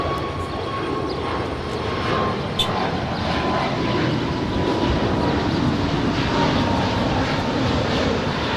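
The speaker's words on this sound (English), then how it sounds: "This is American 939 departing to Phoenix on an A321 Neo." An American Airlines Airbus A321neo bound for Phoenix departs LAX with a loud, sustained broadband jet roar that holds steady throughout, heard from nearby with no voices over it.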